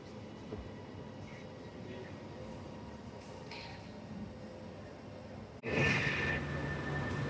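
A train at Preston railway station rumbles steadily with low mechanical noise, then a sharp change brings a louder, brighter surge of rail and carriage sound near the end.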